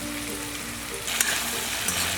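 Whole spices such as star anise and cardamom frying in white oil for prawn biryani, giving a close, dense, continuous crackling sizzle that briefly spikes brighter midway.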